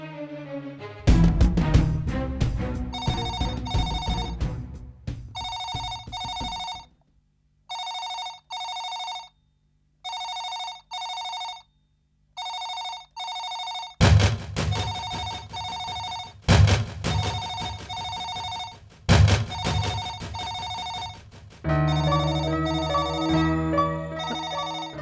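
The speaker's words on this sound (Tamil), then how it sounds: "என்னன்னா போன் அடிக்கிறது எடுக்காம பாத்துட்டு" A telephone rings repeatedly in a domestic scene from a Tamil TV serial, the bell pattern clear and loud in steady bursts, alternating with background music and other sounds.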